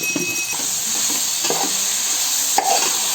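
Brinjal tomato curry seasoned with kasuri methi is stirred in a pan, giving a steady sizzle broken by a few scraping, clattering spoon strokes close by.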